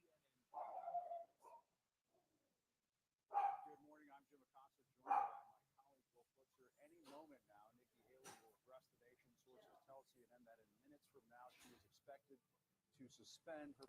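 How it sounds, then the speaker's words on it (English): A little dog lets out a few sharp barks close by, then someone talks over faint background sounds. "We do have a dog here, by the way."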